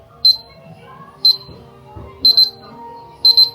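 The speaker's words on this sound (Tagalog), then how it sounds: "Ayun, ganun yung alarm niya." An alarm clock beeps in short bright bursts, first single then doubled, repeating about once a second over faint background talk.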